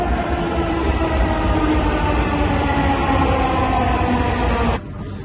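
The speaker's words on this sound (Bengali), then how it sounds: "আসার সাথে সাথে ট্রেন চলে আসছে অ্যান্ড আমরা এখন ভিতরে ঢুকবো।" A metro train pulls into a station with a loud, steady close rumble and hum that cuts off abruptly near the end, leaving quieter background noise.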